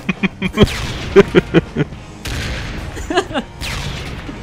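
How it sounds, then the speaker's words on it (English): Rapid gunshots and explosions in the video game Ride to Hell: Retribution, a burst of sharp cracks followed by booming blasts, loud and close, with someone talking over parts of it. "And then they have that ridiculous explosion."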